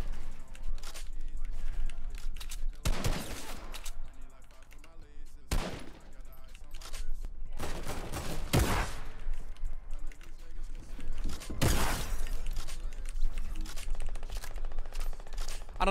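Sniper rifle gunfire in the Fortnite video game comes as several sharp, loud cracks spaced seconds apart over busy game sounds, with a player talking in places.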